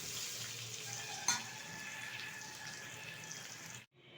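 Pointed gourd frying in oil with turmeric, a steady close hiss of sizzling oil with one brief clatter, cutting off near the end.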